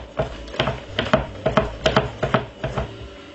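Close, crisp clicks of a whisk striking the side of a bowl, about ten strokes in a steady rhythm, as ingredients are whisked for a simple lunch recipe, with no voices.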